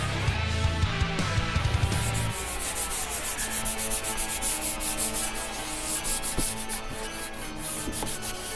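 Fine 800-grit sandpaper rubbed over primer on a 1:350 scale Enterprise Refit model saucer, a close, continuous scratchy sanding with quick back-and-forth strokes.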